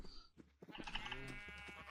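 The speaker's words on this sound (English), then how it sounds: "I've got plenty of sheep breeding up" Sheep bleat in Minecraft (All The Mods 10), a video game, with several overlapping wavering bleats close by, heard alone over a faint background.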